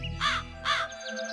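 A cartoon crow gives two loud, clear caws in quick succession, each short and harsh, followed by faint thin chirps trailing off.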